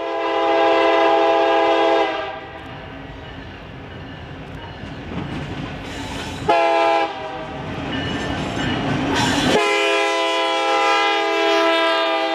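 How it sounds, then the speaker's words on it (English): Montana Rail Link helper locomotives running light downgrade on Mullan Pass: a loud sustained multi-note horn blast, then rumbling engines and rolling wheels, with further horn sounding near and strong. "These helpers are coming back downgrade running light and will be placed on another train later at the Y in Helena."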